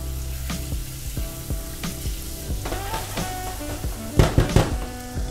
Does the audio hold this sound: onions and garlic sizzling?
yes